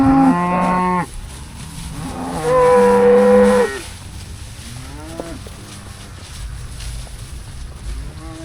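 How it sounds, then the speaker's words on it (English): Cattle moo loudly outdoors on a farm pasture, two long close calls followed by a fainter, shorter moo amid light wind. "let's get these cows because they're antsy."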